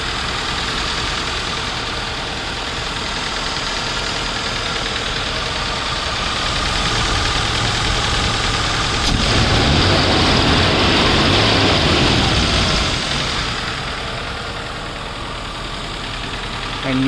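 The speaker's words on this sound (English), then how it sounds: "you can just check out the engine sound at the moment" A 2005 ex-army off-road vehicle engine idles steadily and close, a continuous rumbling drone that swells slightly midway before settling back.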